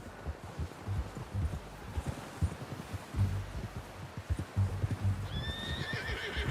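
In a Red Dead Redemption 2 scene, a horse's hooves clip-clop in a steady walking rhythm close by, and a whinny breaks through near the end.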